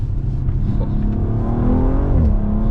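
An Audi RS 4 engine revving hard on a spirited drive, a loud, sustained in-cabin roar that climbs steadily in pitch as the car accelerates, with no talking over it.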